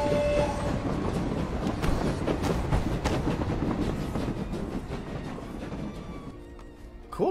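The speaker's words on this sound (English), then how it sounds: "Cool train." A train passes in the video game My Time at Sandrock. A steady rumble with clattering wheels runs close and loud for most of the clip, then eases off at the end.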